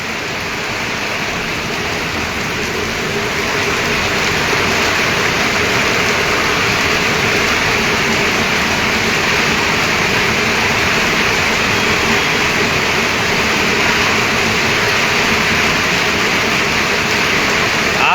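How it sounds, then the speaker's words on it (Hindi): Heavy storm rain pours steadily and loudly, a dense unbroken roar lasting throughout, with a vehicle's engine rumbling within the downpour. "लगातार बिजली कड़क रही है, चमक रही है और तेज़ बारिश।"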